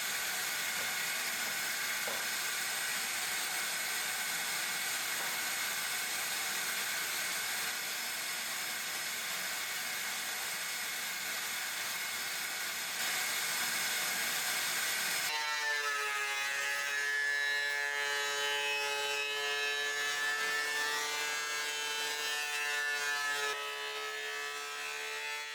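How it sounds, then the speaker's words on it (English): Poor-quality construction lumber feeds through a power planer in a cold workshop, a loud, steady broadband roar that shifts midway into a harsher, whining cutting tone as the board passes the blades. "I'm running it through the planer so I don't have to do too much sanding"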